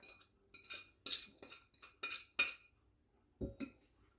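Utensil clinks and scrapes against a bowl while mixing minced garlic, lemon zest, flour, basil and onion powder, a handful of short, close taps in bursts with a duller knock near the end.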